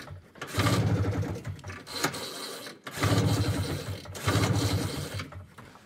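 A Ski-Doo 302 snowmobile engine cranks on full choke at its first start of the year, two loud churning bursts separated by a short pause, heard up close.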